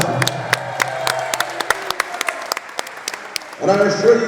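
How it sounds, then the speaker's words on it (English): A wrestling event crowd in Elmwood Park, New Jersey claps in a sparse, scattered patter of sharp hand claps, and a voice speaks over them near the end. "Give yourselves a round of applause."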